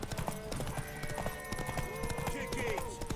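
Rhythmic hoof clip-clops of a horse trotting in a busy scene in The Witcher 3: Wild Hunt, with shouted voices and a brief whinny over background music.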